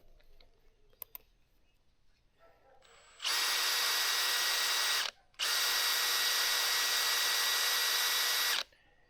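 A power drill with a bit chucked backwards whirs loudly for about two seconds, stops briefly, then runs again for three more seconds, after a few faint clicks in a quiet room.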